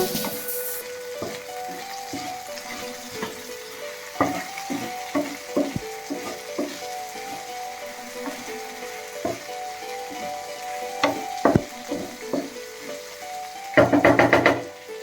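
Okra sizzles as it stir-fries in a pan after salt goes in, with a steady frying hiss broken by repeated sharp knocks and scrapes of a spoon against the pan, ending in a louder burst of stirring.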